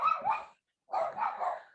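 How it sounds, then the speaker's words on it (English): Dogs bark indoors in two short bursts of several yaps each, separated by a brief pause, fairly close and moderately loud. "sorry for the dogs"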